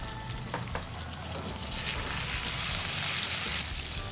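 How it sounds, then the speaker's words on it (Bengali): A paste of ginger, green chili and turmeric sizzles in a pan over low to medium heat for a Bengali egg curry, a soft steady frying hiss that grows slightly louder after a couple of light taps. "লো টু মিডিয়াম আছে আদা লঙ্কা হলুদ একটু ভেজে নিয়েছি।"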